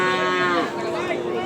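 A black bull gives one long, loud, close moo that holds steady, then bends and trails off, with no other sounds behind it.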